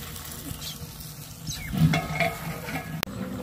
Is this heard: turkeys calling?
no